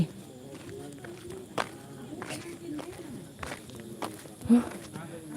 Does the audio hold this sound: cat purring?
no